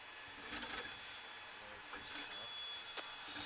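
A RepRap 3D printer with a heated bed draws in filament, giving a faint mechanical whirring and light clicks close by, while a person talks over it.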